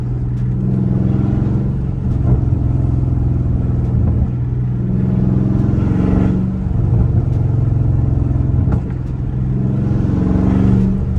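A Dodge Charger Scat Pack on a night drive gives a loud, steady exhaust drone with repeated rises in revs and short crackling pops between them, close and constant throughout.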